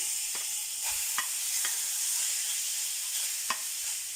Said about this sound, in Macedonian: Оставаме пилешкото да се пржи.